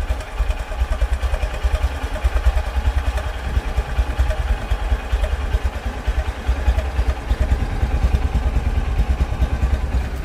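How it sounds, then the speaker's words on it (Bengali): A 2022 Honda X Blade DD ABS motorcycle engine running at a steady idle close by, a loud, even, low thrum with light mechanical clatter and no talk. "তো রানিং অবস্থায় গাড়িটির সাউন্ড শুনুন।"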